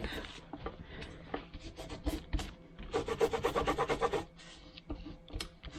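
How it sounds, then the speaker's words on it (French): Paper being rubbed firmly by hand to press it flat onto a card, a close dry scratchy rasping in short strokes with a denser burst of rubbing midway, no speech. "On n'hésite pas, on frotte."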